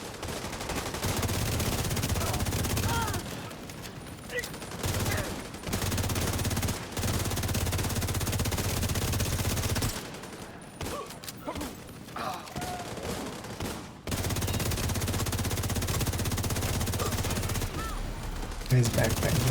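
Bursts of automatic gunfire in a video game, loud sustained volleys broken by short silent gaps, with a low steady hum running underneath.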